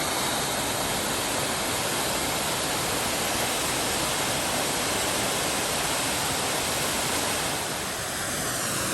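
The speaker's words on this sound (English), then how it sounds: "Oh, it's a massive waterfall." Powerful, steady roar of a large waterfall in DuPont State Forest, North Carolina, broadband and continuous, filling the whole clip at close range.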